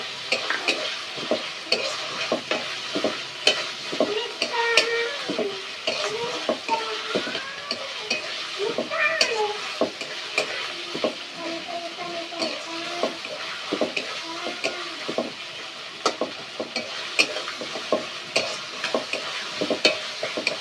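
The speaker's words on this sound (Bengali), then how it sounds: "এবার আমি জিরা মাছের বাটা দিয়ে দেবো।" Cumin fish paste sizzles in a hot pan while being stirred steadily, a close continuous frying hiss broken by repeated scraping strokes of a spoon against the pan.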